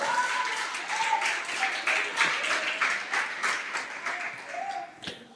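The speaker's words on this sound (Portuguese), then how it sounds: "Você pode aplaudir ao Senhor." A church congregation claps together during worship, a steady, fairly close wash of many hands with uneven swells, while a faint voice sounds underneath.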